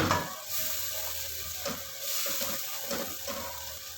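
Spices sizzling in hot oil for a Punjabi-style fish curry, a soft continuous frying hiss with occasional stirring scrapes, close and fairly quiet.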